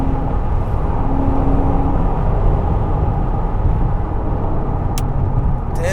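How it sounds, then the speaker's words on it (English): A truck loaded with rocks rumbles past close by on the road. A heavy, loud, broadband engine and road roar holds throughout, with a short sharp hiss near the end. "Damn, fucking truck with the rocks."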